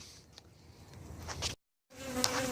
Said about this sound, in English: so now there's bees all over everywhere